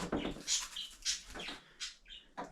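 A small bird gives a string of short, high chirps and whistles near a Polaris Ace during a rear windshield install, several quick calls in uneven bursts across a few seconds with little else around.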